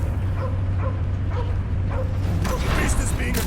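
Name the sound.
dog barking in Guardians of the Galaxy video game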